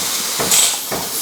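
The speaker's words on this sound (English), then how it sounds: "Wipe and purge the steam arm." Steam wand of an espresso machine purged in short hissing bursts, a steady airy hiss with two brief louder surges, close and alone with no talk.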